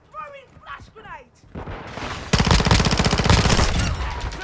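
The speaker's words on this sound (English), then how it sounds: "Throwing flash grenade!" A flash grenade goes off in Call of Duty MWII, a sudden loud blast that opens into sustained crackling gunfire, following a brief stretch of quieter voices and game sounds.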